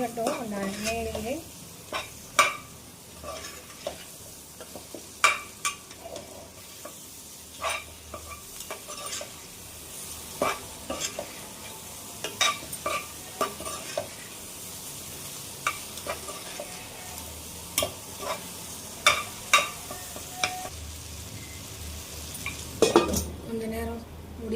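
Bitter gourd frying in oil in a pan, a soft steady sizzle under repeated scraping stirs and metallic clinks of a spoon against the pot, close and intermittent, with no talking.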